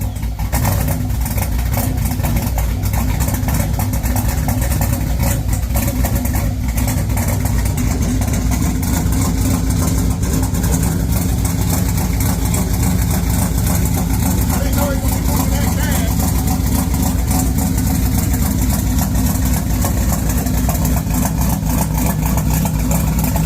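Loud, close engine of a turbocharged Chevrolet Caprice idling steadily after being started, a dense continuous rumble with constant low throb throughout, with someone talking over it.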